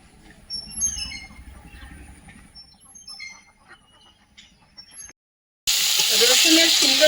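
Bottle gourd greens and stems frying in a pan: quiet stirring and light crackle at first, a brief silence, then a sudden loud, hissing sizzle as the greens meet the hot pan.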